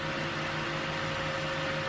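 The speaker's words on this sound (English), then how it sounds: "printer's up to temperature, that's what you can hear in the background" A 3D printer, heated up to temperature, runs with a steady, even mechanical hum like a small fan and motor. The sound is constant and close throughout, with no talking.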